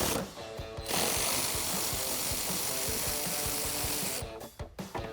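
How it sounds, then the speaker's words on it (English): Bracket bolts on a Jeep Wrangler JL being loosened with a T30 Torx ratchet, a rapid steady clicking of the pawl lasting several seconds, close and loud, with no talking. "I'm going to use a T30 Torx in order to remove those."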